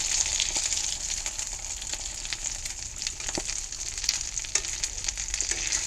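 A burger patty frying in a cast iron pan inside a greenhouse gives a constant bright sizzle with scattered crackles and pops, fairly quiet and close, with no voices.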